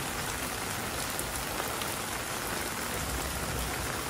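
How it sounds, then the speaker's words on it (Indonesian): Heavy rain on a farm falls in a soft, even hiss, with scattered drops pattering on a surface and no one speaking. "Menikmati hujan di setiap farm."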